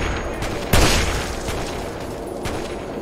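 Gunfire from a weapon in Fallout 3, one loud close shot followed by several fainter cracks amid a dense, noisy combat background.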